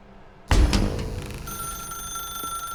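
A telephone rings abruptly in the video game The Stanley Parable, a sharp bell-like burst followed by a sustained ringing tone over a low room hum, with no talking.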